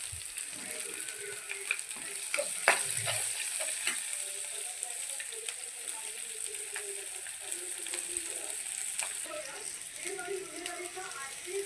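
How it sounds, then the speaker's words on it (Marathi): Green chillies with garlic and turmeric stir-fry in a pan with a steady, close sizzle. Repeated scraping and clicking from stirring runs through it. "मिरची टाकून चांगलं मिक्स करून घेऊ आपण त्याच्यात आणि थोडीशी हळद टाकूया"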